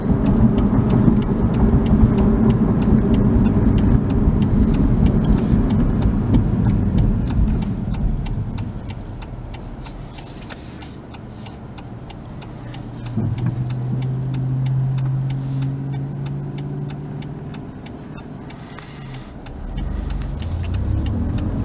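2019 BMW M2 Competition with a Dinan upgrade on a test drive, its engine and exhaust rumbling steadily from inside the cabin, fading lower and quieter midway, then swelling again with a faint ticking throughout.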